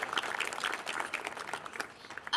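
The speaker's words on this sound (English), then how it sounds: "Let's give them a round of applause." Applause for the Ste. Genevieve, Missouri municipal band at an evening outdoor concert, a moderately quiet and steady patter of many hands throughout, with a brief louder burst at the very end.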